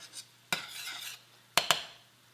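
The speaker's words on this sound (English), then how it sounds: "you're going to be working that caramelization out of that bottom of that skillet" A utensil stirs and scrapes caramelized beef stew bits off the bottom of a non-stick skillet on the stove: a few sharp scraping strokes, one near the start and a quick pair later, each trailing off into quiet.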